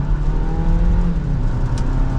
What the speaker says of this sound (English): Putting that turbo engine to the test.